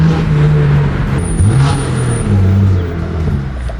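A BMW G80 M3 engine revs loudly and steadily up close, with a throaty intake roar and exhaust drone rising and falling.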